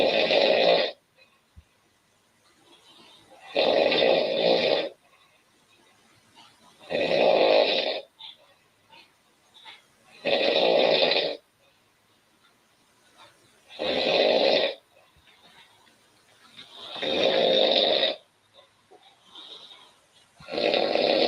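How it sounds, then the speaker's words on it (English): A woman snores in slow regular cycles, six loud rasping inhalations spaced a few seconds apart with quiet breathing between, close and alone. "This is the one who's snoring."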